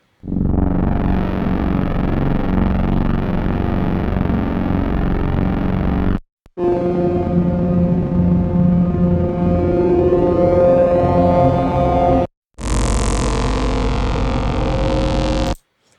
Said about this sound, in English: And lastly, we have just pure synth sounds.